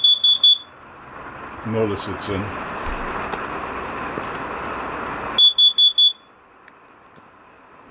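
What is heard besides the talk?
carbon monoxide alarm going off in Rockwood Minilite trailer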